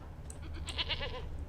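Goat bleating from The Witcher 3 video game, a couple of short nasal bleats rising over a steady low game ambience, fairly close and moderately loud.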